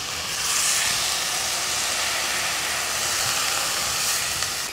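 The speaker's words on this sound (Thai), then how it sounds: "ผมก็จะใส่น้ำแล้ว" Water pours steadily into a pot of pork ribs and peanuts, a continuous close hissing splash lasting a few seconds with no talk over it.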